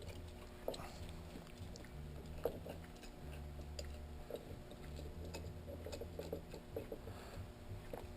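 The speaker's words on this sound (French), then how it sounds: "je vais visser jusqu'au tie wrap" Mechanical clicking and ratcheting from screwing a part onto a Ski-doo 500ss snowmobile motor, a quiet, steady run of small metallic ticks and taps over a low background hum, with no talking.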